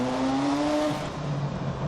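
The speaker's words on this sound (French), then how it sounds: "Un petit tour de F40 dans le col de Turini." A Ferrari F40, a track car, pulls up the Col de Turini mountain pass. Its engine drones loudly and steadily from inside the cabin, the pitch climbing and then settling lower as it changes gear, with no talk.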